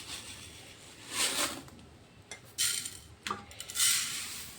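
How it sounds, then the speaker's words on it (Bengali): About 250 grams of sugar, measured with a bowl, goes into a pot for lalmohan, heard as a few separate hissing pours and light bowl-and-metal clinks, close up and quiet, with no talking. "এই জন্য বাটি মেপে আমি চিনি দিচ্ছি।"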